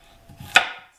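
A knife cuts through vegetables for bone broth with one crisp chop onto a cutting board, preceded by faint soft handling sounds, close and clear with no talk.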